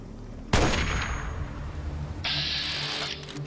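A single sharp gunshot cracks out in Fallout 3, loud and sudden, followed by a lingering ringing tail and a metallic hum that carries to the end.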